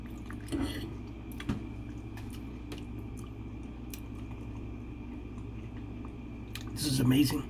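Chewing while tasting freshly cooked pasteles: soft, close, squishy mouth sounds with faint clinks of utensils, ending in a louder murmuring burst near the end.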